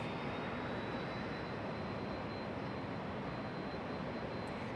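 A distant aircraft engine spools up at an airport's general aviation area, a steady broadband roar with a thin high whine running through it.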